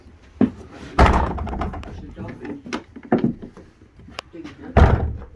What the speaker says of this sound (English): I'll try and close the door.